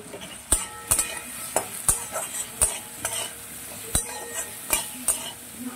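Potatoes and onions sizzling with salt, turmeric, Kashmiri chilli powder, ginger and tomato in a Bengali fish curry pan, with a spatula scraping and knocking at a steady rhythm over a continuous sizzle, close by.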